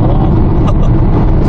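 A Honda CR-V fitted with an aftermarket exhaust-flow booster accelerates, its engine a steady, loud low rumble with broadband road noise from inside the cabin, no clear gear breaks over the brief stretch.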